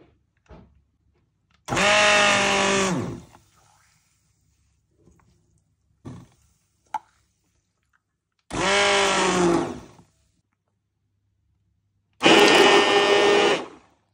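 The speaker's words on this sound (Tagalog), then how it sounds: "Gamit tayo ng hand blender, guys." A handheld immersion blender purees a pot of vegetable soup in three loud, sustained bursts of whirring motor, each a second or two long, separated by quiet gaps with faint clinks.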